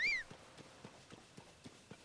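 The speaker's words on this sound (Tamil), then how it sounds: "நம்ம குதிரை வர சொல்லுவோம்." In The Legend of Zelda: Tears of the Kingdom, a short rising whistle calls a horse, followed by even, rhythmic clip-clop hoofbeats, about eight soft strikes, as it trots near.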